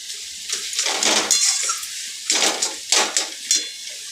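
A pot lid lifts off a pan of bothar shak, a leafy greens dish cooked with vegetables, giving a few short metallic clinks and scrapes over soft sizzling in a home kitchen.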